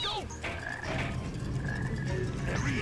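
Frog croaking in the Sonic Heroes video game, a low rough croak repeating under game music and effects, moderately loud and close.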